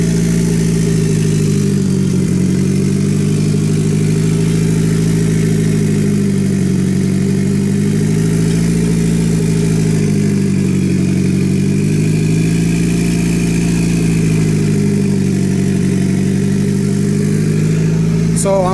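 A car engine idles steadily while warming up after a turbo kit installation, a loud, close, continuous low rumble with a slight wavering pulse and no talking.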